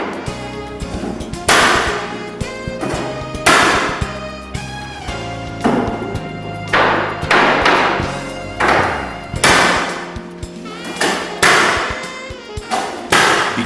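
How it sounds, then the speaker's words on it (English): Timber floorboards being secret-nailed at an angle through the board profile, a series of sharp loud nailer bangs at irregular intervals with short gaps. "the profile of the timber here allows us to fix a nail at an angle"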